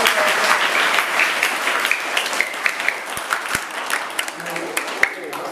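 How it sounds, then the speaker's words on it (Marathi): Sustained applause from a crowd at a school games competition, dense steady clapping with sharper individual claps standing out near the end. "सर्वांनी एकदा कृष्णाची टाळ्या"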